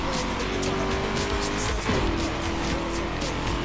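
A car in the racing game Forza Horizon 3 roars continuously with loud engine drone and tire squeal, the engine pitch shifting as it gears and skids, with no talk over it.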